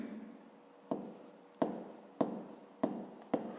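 A pen or pencil scratches out a fifth-grade math subtraction exercise by hand, five separate strokes each starting with a sharp tap and trailing off, close up and unhurried, with no talk.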